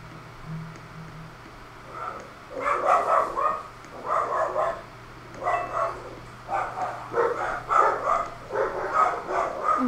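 Several pet dogs bark in a home in a rapid series of loud, repeated bursts that keep going, with a faint steady hum underneath.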